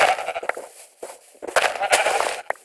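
Sheep in a Minecraft-style video game bleat in several quick, nasal cries close up, bunched in two bursts with a short gap between them.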